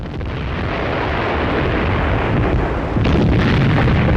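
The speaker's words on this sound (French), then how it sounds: "l'ennemi bolchevique martèle nos positions à l'aide de canons de tout calibre" Artillery pounds battlefield positions on the Eastern Front during the battle of Orel, a dense continuous rumble of cannon fire with a heavier boom near the end, loud and without speech.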